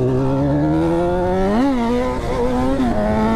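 Honda CB1000 motorcycle engine revving up and down in close, loud rising and falling sweeps, with a brief sharp surge midway and no voices.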